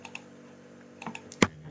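Several light plastic clicks from a computer mouse or keyboard at a desk, soft and close, with one sharper louder click near the end.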